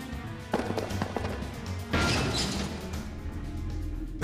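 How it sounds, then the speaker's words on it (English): A shopping cart knocked over in the video game Operation Abyss: New Tokyo Legacy on PS Vita: a clatter of metallic bangs, then a louder, sustained crash about two seconds in that fades into a rumbling game ambience. "Did I knock over a shopping cart?"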